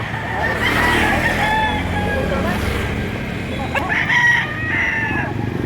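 Roosters crow and chickens call at a poultry market around midday, long crowing calls rising over a steady background with passing road traffic and voices nearby.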